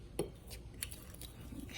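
Seasoned salt being stirred into a flour mixture in a bowl, soft scraping and light clinks of a utensil against the dish, quiet and close, with a few sharper taps.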